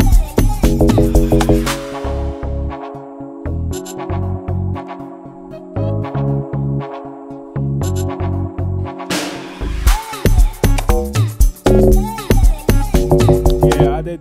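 Amapiano chord progression built in FL Studio, with sustained synth chords over deep bass and a steady drum groove, a brief drop near the middle before the full beat returns loud and dense.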